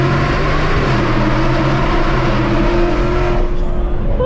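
A 2024 Mustang GT with long tube headers roaring loudly and continuously through a downshift, the engine note rising in pitch and then dropping off near the end, heard close from inside the car.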